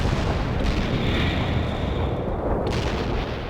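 An artillery barrage in the strategy video game World in Conflict: a dense, continuous roar of booming shell fire and rumbling explosions that holds loud and steady throughout.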